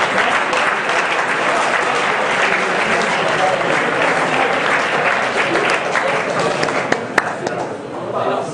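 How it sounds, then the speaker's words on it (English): Spectators at a student robot-building competition give a team a round of applause, loud continuous clapping from a crowd with a few sharper claps standing out near the end. "So a round of applause for Team 5."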